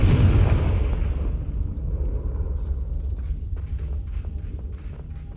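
A Confringo blasting spell goes off in Hogwarts Legacy on PS5 with a loud, booming blast. Its deep rumble decays over several seconds, with faint creaks and clicks trailing behind.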